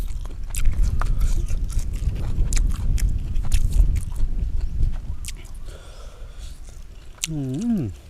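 Crunchy food, eaten with a soup of bamboo shoots and grilled fresh chilies, is bitten and chewed in a rapid stream of close, crisp crunches that thin out toward the end, followed by a short warbling sound.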